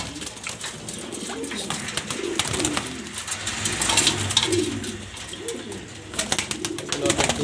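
Several pet pigeons coo repeatedly in a cage, a steady overlapping chorus of soft throaty calls close by, with occasional faint chirps mixed in.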